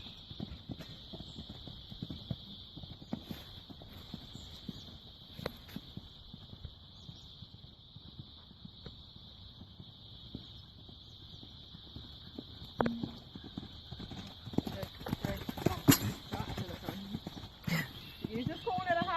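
A ridden horse's hooves clip-clop rhythmically on an arena surface through a schooling session over small jumps, steady and moderately close, while an instructor's voice talks over them and a high steady tone runs throughout.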